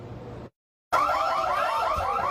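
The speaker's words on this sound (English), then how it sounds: "You're hearing the store alarm wail." A store alarm wails inside a fries restaurant. Loud warbling electronic tones repeat steadily, starting after a short moment of total silence.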